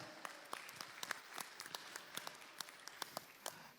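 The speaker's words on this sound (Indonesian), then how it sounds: "Tepuk tangan dulu buat Indonesia." A crowd applauds at the 2020 Asia Imagine Cup finals event, steady dense clapping with sharp individual claps standing out, fairly quiet overall and without speech.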